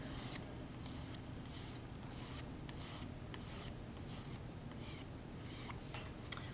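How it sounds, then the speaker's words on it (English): A metal rib smooths a clay slab in steady, repeated soft scraping strokes, faint and close, with no talking. "metal rib to get rid of any unwanted textures and align the particles of the clay"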